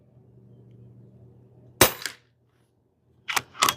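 A sharp close shot from a Pinty .22 caliber bullpup PCP air gun, followed by a brief ring and then a quick double knock of the pellet striking the target, over faint hum.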